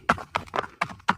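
Hooves of a lame, scrawny horse clip-clop along on the way to market, five sharp, evenly spaced knocks sounding close and clear with nothing else heard.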